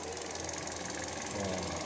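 The engine of a 2015 Kia Rio automatic idling steadily with the hood open, a smooth, even hum heard close up.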